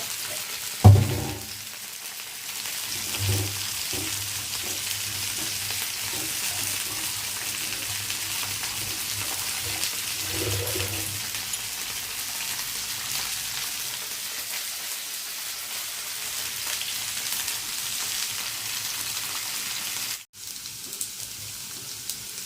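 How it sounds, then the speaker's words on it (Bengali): A steady, quiet sizzle of okra and potatoes frying in a pan runs throughout, with a few soft clinks and stirring sounds early on. "এগুলো সুন্দর করে ভাজবে নেব একসাথেই ভেজে দিচ্ছি আলাদা আলাদা করে"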